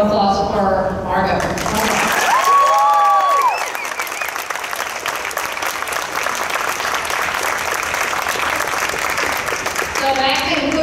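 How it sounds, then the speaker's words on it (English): A crowd gives sustained loud applause for an athlete at a high school National Letter of Intent signing ceremony, the clapping swelling after a speaker and holding for several seconds, with voices returning at the end. "Major round of applause for Margo"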